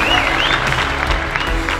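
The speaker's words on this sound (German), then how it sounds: "Gratulation, tollen Applaus für den besten KKB im Jahr 2017. Herr Stefan Stutz." A crowd applauding steadily at an awards gala, with a voice briefly audible over the clapping.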